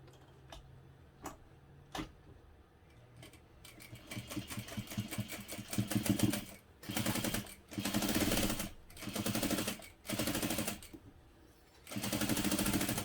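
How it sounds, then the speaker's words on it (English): A sewing machine stitches a 5/8-inch seam on a hobo bag, starting with a few isolated clicks, then running in several short bursts of rapid stitching with brief pauses between. "I'm going to sew this in place using a 5/8 inch seam allowance"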